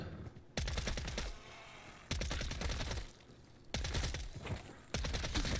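Suppressed SMG fire in MW3 Zombies, a few sustained close bursts of rapid muffled shots separated by short pauses with quieter game ambience between them.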